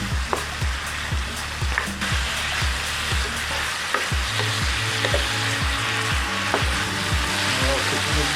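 Noodles stirred and fried in a pan with spring onion, black pepper, salt and hot pepper, a steady close sizzle broken by repeated scraping strokes of a utensil, with background music running throughout.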